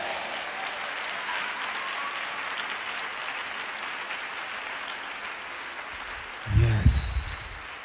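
A church congregation claps in a steady patter during a Telugu sermon, then a louder burst of thumps and noise comes near the end.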